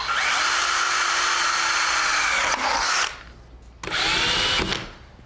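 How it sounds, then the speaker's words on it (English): A power drill boring a hole to mount a ceiling track, loud and close, running steadily for about three seconds, stopping briefly, then drilling again in a second burst. "all I need to do is drill another hole at this end to mount it to the ceiling"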